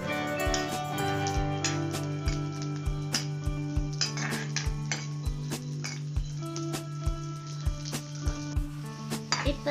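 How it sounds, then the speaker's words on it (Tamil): Raisins and cashews roast in a pan with a soft sizzle while a metal spoon stirs and taps against the pan in a steady, repeated clinking rhythm, close up and fairly loud. "திராட்சையும் போடுறேன். இது நல்லா வறுத்து எடுத்துக்கோங்க."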